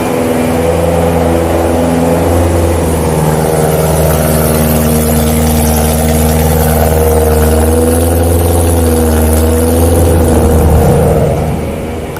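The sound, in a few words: supercharged BMW E92 M3 engine while driving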